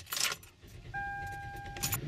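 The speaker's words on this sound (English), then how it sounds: "So you start the car." A car engine cranks and catches after a jangle of keys, then settles into a steady idle with a high whine, close by and alone; the throttle body has just been cleaned and the battery was disconnected.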